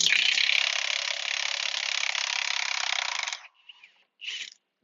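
An impact wrench hammers steadily on wheel bearing bolts of a 2010 Mercedes C300 4Matic, a loud close rattling buzz for over three seconds, then two short bursts after it stops.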